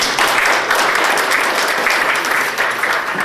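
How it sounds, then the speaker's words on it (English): Audience applause at a gala dinner, a full room of steady, enthusiastic clapping that holds at a constant level for a few seconds. "Please give her a big round of applause."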